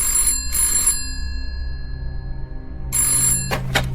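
An old-style telephone bell rings in two short bursts, falls silent, then rings again, loud and close, followed by a couple of clicks.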